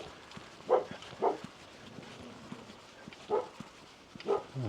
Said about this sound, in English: Here the doggo.